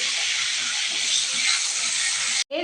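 Turmeric frying in a hot pan for a potol dish, a steady close loud sizzling hiss that runs continuously and then stops abruptly near the end.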